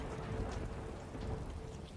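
Rain spell cast in the fantasy role-playing video game Divinity: Original Sin 2: a steady, dense downpour hiss with low rumbling, continuous and fairly quiet, with no voices.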